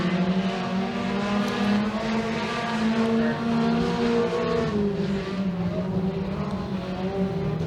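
Race cars run heats around the Genesee Speedway track, engines droning and rising and falling in pitch as they circle at a moderate distance, with a continuous layered roar and no voices.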